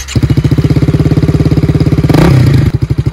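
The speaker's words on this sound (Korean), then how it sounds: "오토바이 타기 도전 해보겠습니다." A motorcycle engine runs close by with a loud, rapid, evenly pulsing thump, briefly surging in a short rev before settling back into its steady beat.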